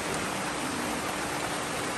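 Rain falls in a dense, even hiss, steady and unbroken for the whole short stretch with no voices over it.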